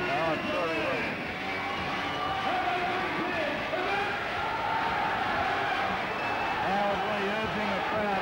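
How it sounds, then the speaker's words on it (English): A boisterous crowd roars steadily throughout, a dense continuous wash of voices with no breaks, while a commentator's voice talks over it. "the crowd are still boisterous, aren't they"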